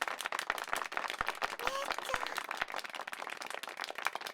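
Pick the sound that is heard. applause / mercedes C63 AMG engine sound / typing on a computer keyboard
applause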